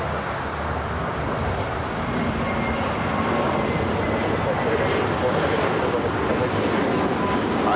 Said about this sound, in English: It's that Turkish 777 in the special livery